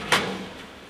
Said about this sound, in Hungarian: alul található egy kényelmesen nyitható nagyméretű tartozékos fiók